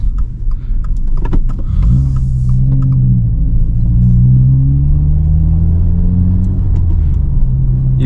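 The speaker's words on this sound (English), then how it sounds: "I really love this exhaust, man." A 2023 Subaru WRX's AWE Track Edition aftermarket exhaust rumbles low and steady from inside the cabin, with a droning tone that rises slightly as it cruises.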